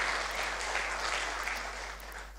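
Congregation applauding during a Sunday sermon in church, a steady broad clapping that stays fairly even and eases slightly toward the end, with no voices over it.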